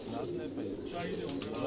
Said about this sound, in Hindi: लाजवाब कबूतर है क्योंकि कबूतर बड़ा पसंद आया